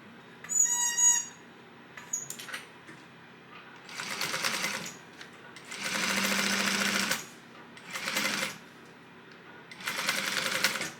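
A sewing machine stitches a crossbody bag in several bursts of rapid mechanical whirring, some short and some sustained, separated by quiet pauses, with a few high beeps near the start.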